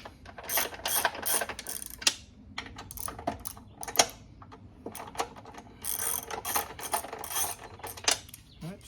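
Socket wrench ratcheting in rapid clicking bursts while loosening the bolts on a Dax125 rear rack, close and crisp, with short pauses between runs of clicks.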